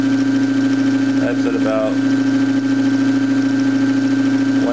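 Steady, close hum of a permanent magnet motor driven as a pedal bicycle generator dynamo, holding one even pitch throughout while someone speaks briefly over it.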